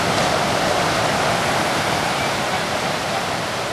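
Big ocean waves break on a beach at Monterey or Carmel, California, making a constant loud, hissing roar of surf with no break.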